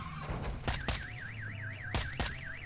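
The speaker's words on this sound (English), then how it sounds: "The car alarm goes off?" A car alarm in the video game Warzone wails with a rising-and-falling siren tone, broken by several loud thumps, with no talking over it.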